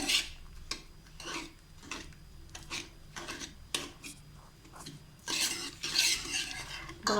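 A spoon scrapes and stirs a thick mutta mittai mixture in a pan, repeated close stirring strokes with soft clinks against the metal, steady and alone with no talk.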